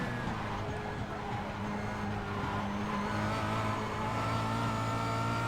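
A Kia Cup race car at Zolder drives through a corner, its engine a loud, sustained drone with a steady pitch that rises slightly toward the end, close and continuous, with no talking.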